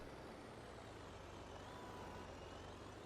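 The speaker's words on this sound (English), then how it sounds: "This tractor is really slow in reverse." A tractor reverses slowly in Farming Simulator 22, its engine a steady low drone with a thin whine above, continuous and fairly close throughout.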